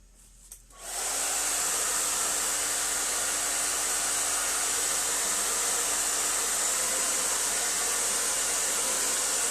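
A hair dryer switches on after a brief quiet moment and then blows steadily to dry paint on a canvas, a loud, even close-up whoosh that holds to the end.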